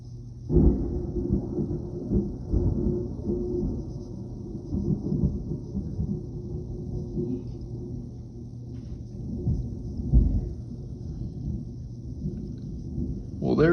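Thunder after a powerful positive lightning strike during a storm, a loud low rumble rolling on for many seconds with sharper cracks partway through, mixed with a person talking.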